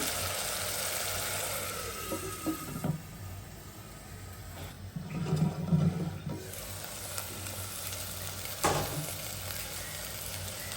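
Ginger and garlic frying in a pan for a beef liver bhuna give a steady low sizzle with a few louder stirring scrapes, close and continuous, with no voices.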